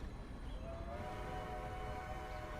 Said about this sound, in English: The familiar sound of a train breaks the natural silence